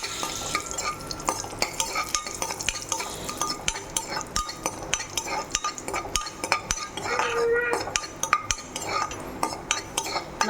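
Cashews and grapes fry in melted butter in a small pan while a metal spoon stirs and clinks against it, giving repeated scrapes and taps over a soft, low sizzle.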